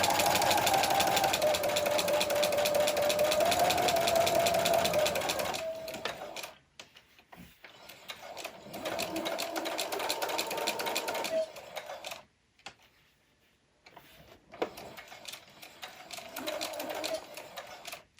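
A sewing machine stitches a plush houndstooth fabric heart in fast, loud bursts of rapid mechanical clatter, pausing several times as the fabric is turned, then resuming in shorter runs.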